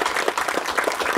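A short burst of dense audience applause follows an art direction masterclass, steady and fairly close with no gaps.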